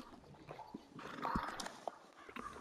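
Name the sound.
horses in video game Red Dead Redemption 2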